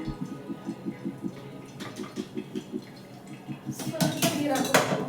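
Cooked dal for a greens sambar being scooped from a hot pressure cooker into a cooking pot, heard as repeated soft metallic scrapes and clinks of a ladle against steel, then busier clattering of vessels near the end.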